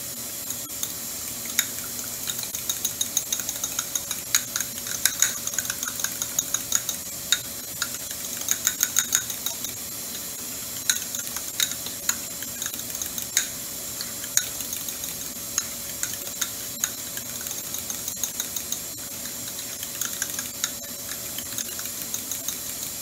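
A spoon stirs sriracha into a sour cream or mayonnaise sauce, giving a continuous close, wet scraping and clinking with a steady rhythm and no talking.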